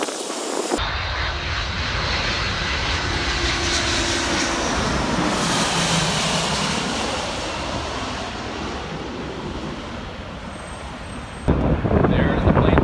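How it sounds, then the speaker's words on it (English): A fixed-wing airplane's jet engines roar loudly at LAX airport, swelling and then slowly fading as the aircraft passes, with a brief burst of nearby noise at the end. "There's the plane that we're waiting for"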